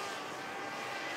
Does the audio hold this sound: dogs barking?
no